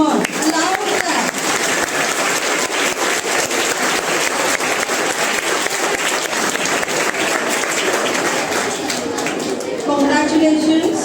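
A large crowd of students at a school Science Day celebration applauds steadily, a dense wash of clapping that stays loud throughout.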